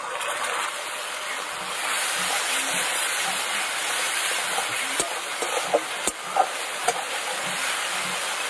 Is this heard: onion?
yes